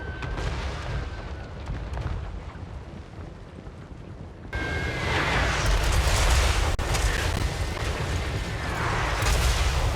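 Mortar crews firing in Total War: Warhammer III during a city battle, a continuous rumbling barrage of booming artillery that grows louder and heavier midway, with no talk.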